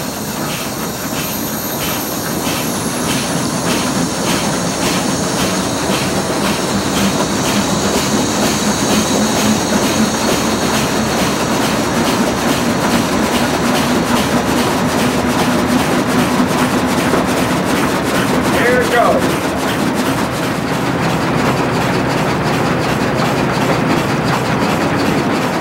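A century-old steam engine at full speed in a California redwood sawmill, a dense continuous rhythmic chuffing and clattering of machinery, loud and close, with a high whine early on and no talk.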